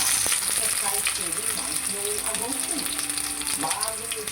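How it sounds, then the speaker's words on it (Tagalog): Garlic hits hot oil in a pan for a sauté with onion, giving a loud, dense, continuous sizzle that stays close and even throughout. "gisahin na natin yung bawang"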